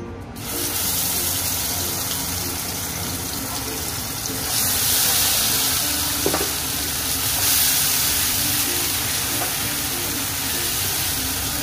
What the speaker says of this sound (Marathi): तर आता हे बघा चांगलं तेल तापलंय आणि आता त्याच्यामध्ये थोडं वाटण टाकते